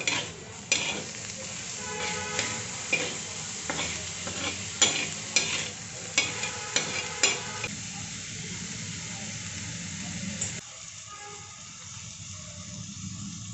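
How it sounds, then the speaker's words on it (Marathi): Chopped onion and tomato sautéing in a pan for a dried bombil onion dish: a steady soft sizzle with scraping stirs and clinks through the first half, then a quieter hiss. "तो पण याच्यात टाकून देऊयात म्हणजे कांदा आणि टोमॅटो पण परतून होईल"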